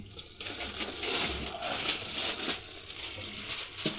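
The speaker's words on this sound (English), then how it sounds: "So I'm going to take the foil off" Aluminum foil peeled back off a baking dish of brown sugar baked pork chops, a continuous close crinkling and rustling that runs steadily for a few seconds with no talk.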